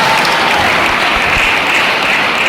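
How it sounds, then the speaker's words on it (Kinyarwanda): An audience at an evangelist's preaching service claps in steady, dense applause that stays loud and even throughout, with no voices rising above it. "Imana nikomeka amashyi"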